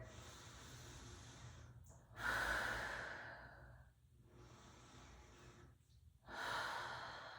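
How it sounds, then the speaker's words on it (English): Slow, deep breaths drawn in and out during a lying hip stretch on a mat in a workout class, two long breathy exhalations with quiet pauses between, close to the microphone. "Take 2 deep breaths right here."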